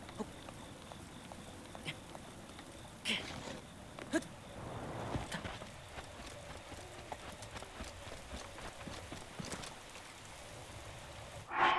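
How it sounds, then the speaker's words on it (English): Steady rain hisses across the landscape in the video game The Legend of Zelda: Breath of the Wild, with a horse's clip-clopping hooves and scattered game effects on top, continuing throughout without speech. "Oh no, it's raining."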